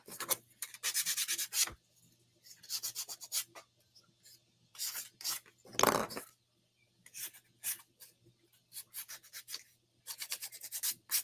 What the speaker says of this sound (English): So, let me see. That's all sanded. This is sanded.